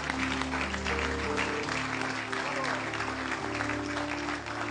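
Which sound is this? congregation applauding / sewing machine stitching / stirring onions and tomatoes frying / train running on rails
congregation applauding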